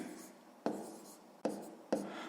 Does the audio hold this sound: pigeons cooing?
no